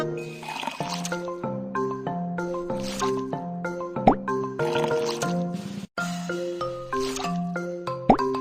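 Squelchy, wet scooping effects from food being ladled out in the Baby Panda's Kitchen Party cooking game, a few soft squishes and drips sitting under bright, steady chiming background music.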